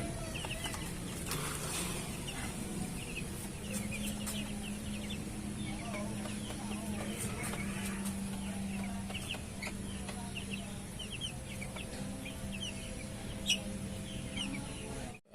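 Young broiler chickens in a brooder cage make a steady chorus of peeping and soft clucking, with a constant hum under it and a few faint clicks.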